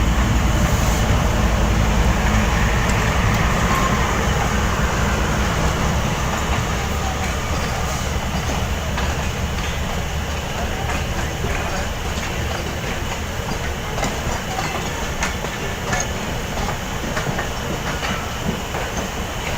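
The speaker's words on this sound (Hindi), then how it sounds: "ये हम रोड़ी स्टेशन से अभी आगे निकले हैं और ये जो है ट्रेन जा रही है" Passenger train rolling along tracks in Pakistan, a loud steady rumble with faint rhythmic clickety-clack heard from on board, continuous throughout.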